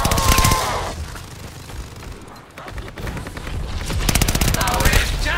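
Rapid bursts of automatic gunfire in a zombie shooter video game, loud and dense, with a short lull in the middle before heavy firing resumes near the end, set against a busy game soundtrack.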